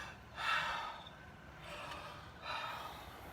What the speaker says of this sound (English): And then we take those big belly breaths